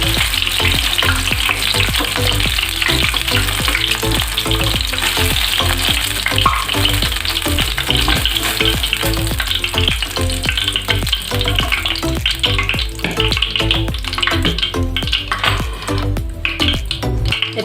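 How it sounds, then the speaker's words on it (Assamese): Garlic, ginger and green chillies fry in oil for chilli paneer, giving a loud, steady, crackling sizzle with occasional stirring against the pan. "এতিয়া সেইখিনি তেলতে ৰহুনখিনি দি দিছোঁ, আদাখিনিও দি দিছোঁ, জলকীয়াখিনিও দি দিছোঁ।"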